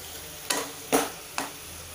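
Sweet potato slices cooking in jaggery in a pan, three separate stirring scrapes about half a second apart over a low, steady sizzle, close by.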